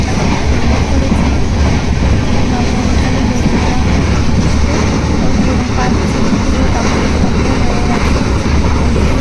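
Passenger train running from Bandel toward Digha, heard from inside a carriage as a loud, continuous rumble with rhythmic clickety-clack of the wheels throughout and faint voices underneath.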